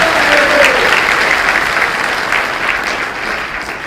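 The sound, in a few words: audience clapping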